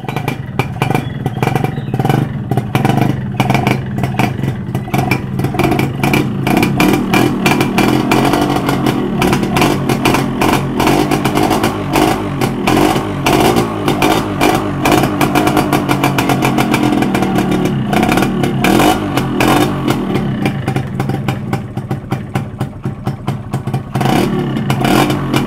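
A 2015–16 motorcycle engine chugs and revs continuously at close range, a loud rattling putter with rising and falling throttle throughout.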